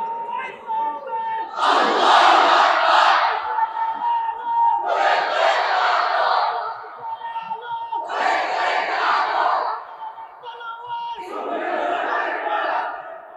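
A large crowd at a Bangladeshi religious gathering roars a takbir chant in four loud, sustained shouted waves, each swelling and then fading before the next.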